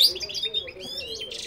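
Goldfinches and canaries sing close by, a busy run of bright high chirps and trills with no voices.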